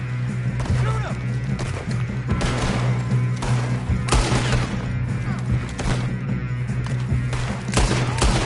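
Gunfire in Red Dead Redemption 2, a dense run of shots and impacts over a steady low hum, with voices shouting throughout.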